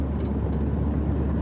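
A car drives across the nearly empty Verrazzano bridge, heard from inside as a steady, loud low rumble of road and engine noise.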